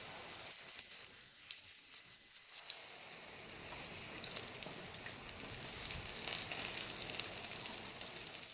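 Eggplant slices frying in hot oil, a faint, steady crackling sizzle that grows fuller and denser after the first few seconds and continues evenly, with occasional small pops and no voices.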